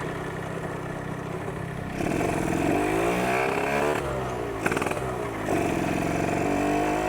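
A two-stroke Suzuki Satria motorcycle engine revs hard nearby, its pitch climbing and dropping through several pulls before easing to a steady buzz.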